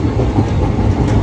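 The Teesta Torsa Express rumbles loudly from inside a carriage as it picks up speed, a dense low roar with a faint rhythmic clatter of wheels on rails.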